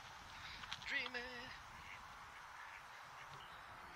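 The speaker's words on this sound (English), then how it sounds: "Many gooses seem to get on with the ducks, all right." A single short quack from a duck on a canal rings out faintly around the one-second mark, then only quiet background hiss and low rumble remain.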